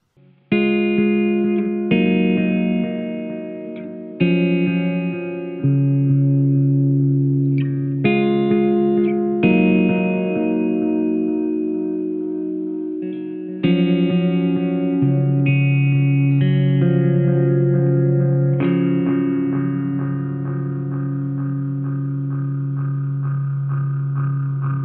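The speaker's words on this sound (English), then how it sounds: "there's just something to the way those echoes just disintegrate over time" Electric guitar chords played through an MXR Carbon Copy Deluxe analog bucket-brigade delay pedal, each strum trailing loud repeating echoes that smear and decay, several phrases over about twenty-five seconds with no talking.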